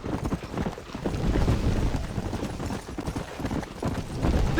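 Horse hooves clip-clopping at a run in the Western video game Red Dead Redemption, a steady rapid rhythm close up and fairly loud, mixed with game ambience.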